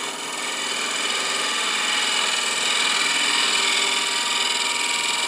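Steady broadband whir of a wood lathe spinning a bowl blank while a tool makes a light shear cut, barely touching the wood; a continuous, even hiss and hum with no talk.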